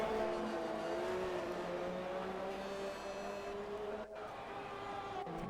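An onboard race car engine drones on the Baku circuit in an Xbox racing game, holding a steady high-pitched whine that shifts pitch with gear changes and briefly dips near the end, with commentary faintly beneath.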